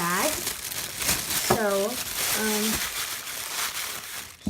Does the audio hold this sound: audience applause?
no